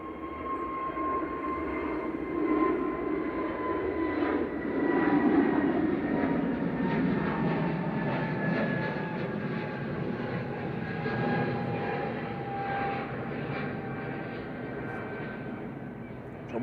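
A Ryanair airliner on short final into Manchester Airport passes as a broad, steady jet roar with a whining engine tone that swells around the middle and slowly fades, heard at a distance with no talking.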